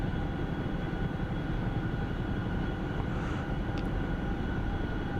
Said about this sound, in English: We're in a Chinook.